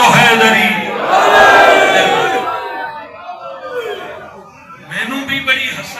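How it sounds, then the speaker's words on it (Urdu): A crowd at a religious gathering loudly shouts the slogan 'Haidari' in unison as a response, a big roaring cheer that swells and fades, then rises again briefly. "نعرے دا پوری جرت نال جواب دے وہ بولو حیدری"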